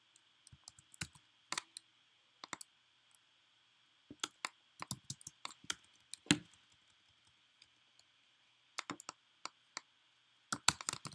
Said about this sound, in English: We're going to type in the prince